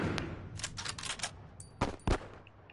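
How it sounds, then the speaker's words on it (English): Gunfire in The Last of Us video game: a burst of several rapid shots, then two loud close single blasts, over a steady low game background. "What are they shooting at?"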